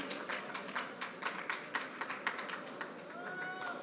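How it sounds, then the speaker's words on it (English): Light, fairly faint clapping from a small audience welcoming a guest speaker at a Chabad celebration, irregular hand claps over a low murmur, with a thin tone appearing near the end. "let's hear a round of applause. And Shloime, let's keep clapping."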